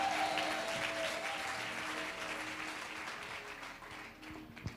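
A church congregation at an evening worship session breaks into loud, sustained applause that fills the room, then gradually thins toward the end.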